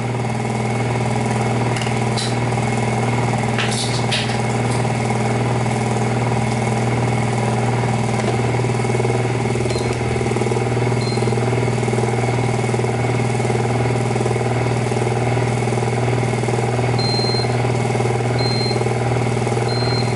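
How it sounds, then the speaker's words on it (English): A single-phase powered electric motor runs at about 1075 RPM, giving a steady, continuous hum with a strong tonal drone that stays even throughout, close and loud, with a few faint clicks. "Now this motor is now running at 1075 RPM, 1075 RPMs"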